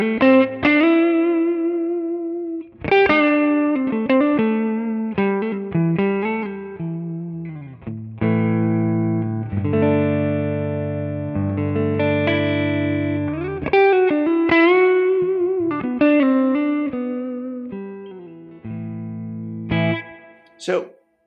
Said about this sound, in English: now we're only using the preamp section of the pedal, and we're running into an IR that the quad cortex is using